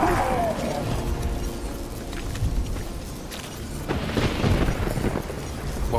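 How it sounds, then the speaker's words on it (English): A magic explosion in The Witcher 3 gives a deep, rumbling boom that rolls on with a dense, noisy roar, swells again toward the end, and keeps echoing heavily over a game soundscape. "A magic explosion of some sort."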